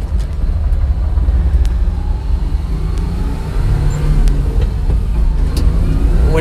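A Daihatsu 4x4 Japanese minitruck on mud and snow tires drives along an asphalt road in two-wheel drive, giving a steady, loud engine drone and road rumble from inside the cab with no letup.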